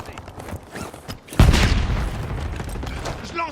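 Gunfire in the Warzone video game, with a heavy booming blast hitting at about 1.4 seconds and sustained loud firing and rumble continuing afterward, following quieter scattered shots.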